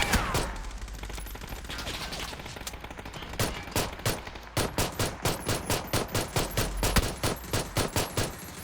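Gunfire in the battle royale game PUBG, a rapid series of sharp shots that settles into steady, evenly spaced bursts, loud and close, with no talk over it.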